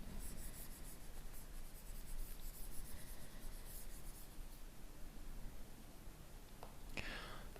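A marker or chalk rubbing steadily across a classroom board as it is wiped clean, a continuous soft scrubbing texture held at close range for several seconds with no talk over it.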